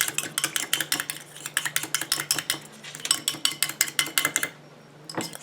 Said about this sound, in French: On mélange énergiquement.